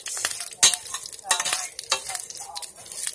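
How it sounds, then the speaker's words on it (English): Dry pasta is stirred while frying in a pan to brown it, giving close scraping strokes against the pan over a light sizzle, in quick irregular bursts. "basically what we're going to do is brown this pasta. We're going to fry it,"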